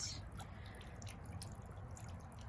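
A small garden fountain trickles faintly and continuously, with soft drips and light splashing heard quietly at a distance.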